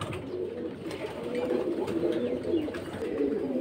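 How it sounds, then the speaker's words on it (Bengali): Many pigeons, high-flying and racer breeds, cooing at a busy pigeon market, a steady low murmuring coo from a crowd of birds throughout, with no talk. "তো আসলে কবুতর আজকে অনেক বেশি, যে কারণে সব কয়টা জোড়ায় জোড়ায় ধরতেছি না।"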